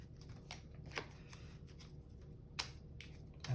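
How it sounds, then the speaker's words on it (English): Playing cards being shuffled, a quiet riffle with a few sharp snapping bursts, close by and soft. "So we're going to shuffle that in."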